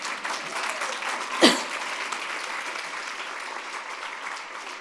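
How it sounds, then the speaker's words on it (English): Audience at a women's tech conference applauds, a moderate, even wash of clapping across the room with one sharp louder clap or cough standing out early, sustained to the end. "That's when you clap."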